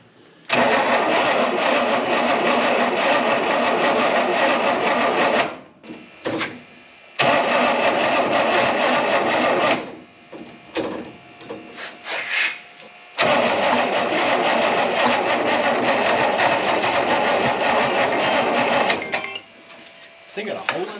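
An old Buick Electra 225, parked since 1982, cranks in three long loud bursts separated by short pauses and stuttering mechanical clatter, with voices talking in the gaps.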